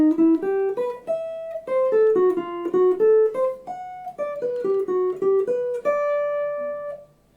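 Guitar plays three jazz chords slowly on the top three strings, arpeggiated note by note in a clear, close, unaccompanied run that ends on a long ringing chord.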